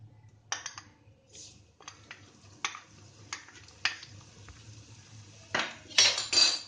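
Metal spoon scraping and clinking against a pan in irregular strokes while stirring cumin and coriander in hot oil, with a faint background hum and quiet sizzle.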